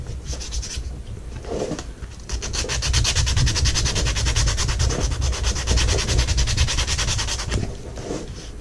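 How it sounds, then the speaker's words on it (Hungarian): A varnished fridge magnet is sanded by hand in steady, rhythmic back-and-forth strokes, close and loud, with short pauses between passes. "akkor csiszolni nem könnyű"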